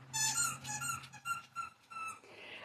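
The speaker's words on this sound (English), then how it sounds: "The puppy's squeaking a toy now." A puppy works a squeaky toy, giving a quick run of sharp, high rubbery squeaks in uneven bursts, fairly close and with no talk over them.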